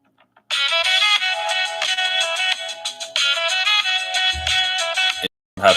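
Ringtone melody played loud and close through the stereo speakers of a Minimal Phone, a steady repeating tone pattern running about five seconds before cutting off briefly and resuming.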